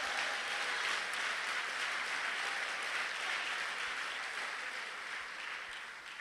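A congregation at a Portuguese-language church service gives a continuous round of applause that stays loud and even, then eases slightly toward the end.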